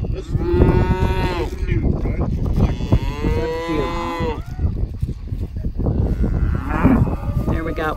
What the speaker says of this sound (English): The cows are all bawling because...